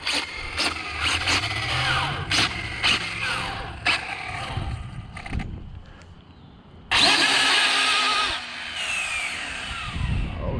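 An Arrma Infraction XLX2 RC car on a speed run, its motor whining and surging in repeated bursts, then a loud sustained high-pitched rush as it blasts past, with a quieter tail afterward.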